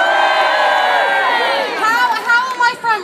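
A large outdoor festival crowd in Trafalgar Square at West End Live 2012 cheering and screaming for the Blood Brothers cast on stage, loud sustained shrill whoops and yells rising and falling in waves.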